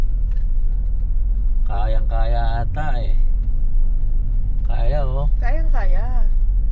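A sedan rolls along a farm road in Magalang, Pampanga, its steady low engine rumble and road noise continuous throughout while people inside talk over it in two bursts.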